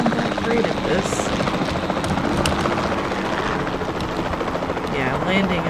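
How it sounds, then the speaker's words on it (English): A helicopter in Jurassic World Evolution 2 whirs steadily while coming in to land, its rotor chop loud and continuous, with someone talking over it. "let me just go land this helicopter"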